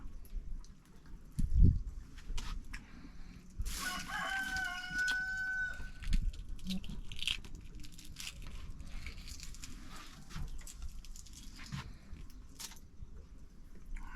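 Scattered chicken sounds with a rooster crowing in the middle, set among faint outdoor rustles and knocks.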